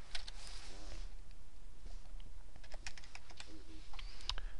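Quiet clicks of typing on a computer keyboard in an Excel session, a short, uneven run of keystrokes heard close and faint with no talk over it.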